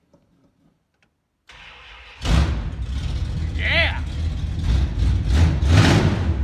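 A 1969 Plymouth Road Runner engine cranks and fires up after a short silence, then revs loudly and rumbles close by while a person cheers over it.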